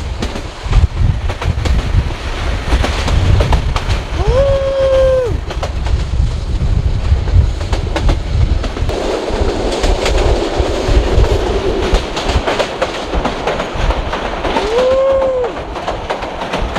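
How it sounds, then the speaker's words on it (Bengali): A fast train near Gaibandha, Bangladesh, heard from on board, rumbles and clatters steadily for the whole stretch, with wind rushing past and two brief horn-like tones, one early and one near the end. "দেখতে পাচ্ছেন ট্রেন কত জোরে জোরে যাচ্ছে গাইস, অনেক বেশি জোরে জোরে যাচ্ছে"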